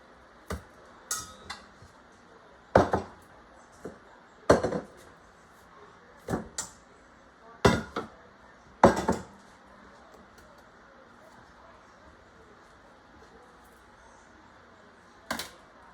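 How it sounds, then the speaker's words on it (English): Several sharp knife chops through cheesy garlic pull-apart bread on a board, coming in irregular clusters of taps with quiet gaps between them, close by and fairly crisp. "we're gonna cut it into little pieces."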